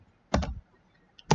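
Computer keyboard typing a command: two brief, close clusters of keystrokes separated by a short pause, otherwise quiet.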